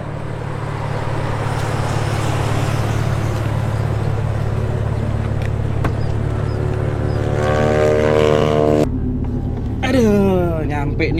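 Black BMW M4 with an S55 engine, Stage 2 tune and full Akrapovic exhaust system, rumbling steadily nearby from inside the car, with a rising rev toward the end and people talking over it.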